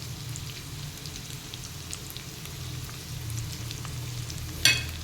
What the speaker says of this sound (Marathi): ढब्बू मिरची कांदा आणि आपली नेहमीची मिरची जी चिरून घेतलेली आहे ती घालून घेऊया आणि हे छान परतून घेऊयात